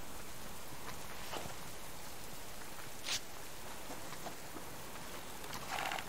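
Rain falls in the survival video game Warzone as a steady, faint hiss of drops on surfaces, with a few soft clicks and thuds scattered through it and no talking.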